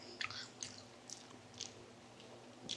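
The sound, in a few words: chewing a spinach mushroom baked roll packed with cheese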